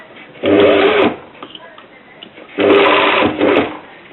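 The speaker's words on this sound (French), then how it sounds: "je couds le premier centimètre des maillons en le guidant bien dans la rainure" Sewing machine stitching an invisible zipper, guiding the coil teeth into the groove: two loud, close bursts of rapid mechanical whirring, each about half a second to a second long, separated by a quiet pause with faint handling noise.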